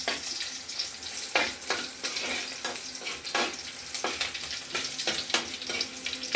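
Ginger sautéing in a pan for Kerala inchi curry, Onam sadya style, with a steady sizzle and frying crackle under repeated stirring scrapes, close and fairly loud.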